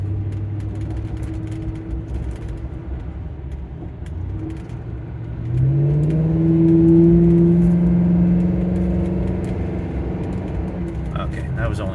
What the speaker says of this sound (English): this is a 2003, technology of the late 90s, the all-aluminum Cobra engine